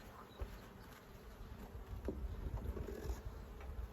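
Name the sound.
honey bees buzzing around a beehive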